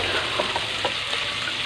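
Chicken, broccoli, chayote and button mushrooms stir-frying in a pan, a loud steady sizzle with brief scraping stirs breaking through, no talking.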